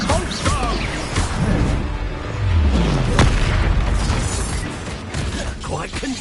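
An Expulso spell explosion from the Hogwarts Legacy video game lands as a loud, rumbling blast amid ongoing crashes and booming combat effects, with a voice briefly audible.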